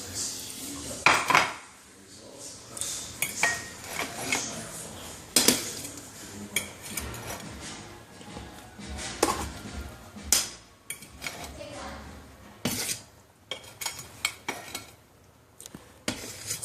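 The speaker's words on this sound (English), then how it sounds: "And now we are going to dump our potatoes in." Potatoes dumped into a pot of beef stew, several sharp clattering knocks of metal and utensils against the pot with scraping between them, close and fairly loud, no talk.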